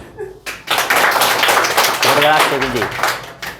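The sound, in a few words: class clapping for the winner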